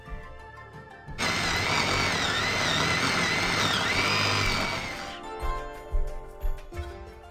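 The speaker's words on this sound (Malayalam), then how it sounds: "ഇതാ ചോപ്പറിലിട്ടിട്ട് നന്നായിട്ട് തന്നെ ഒന്ന് മിക്സ് ചെയ്തിട്ടുണ്ട്" An electric food chopper mincing boneless raw chicken for chicken cheese rolls whirs loudly in one steady burst of about four seconds, then stops, leaving a few clattering knocks.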